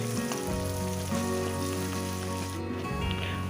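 Salted onions frying in a pan for a chicken and curd dish, with a steady, moderate crackling sizzle throughout and no talking.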